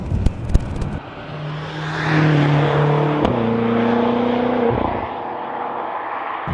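A BMW M5 driving on a wet road, its engine rising into a brief rev that holds and then drops away as traction control cuts power, heard from inside with some knocks and bumps at the start.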